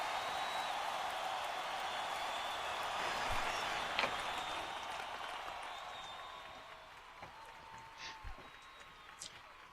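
Audience applause and cheering at a virtual event's closing ceremony, a steady wash of clapping that gradually tapers off, with speech heard over it.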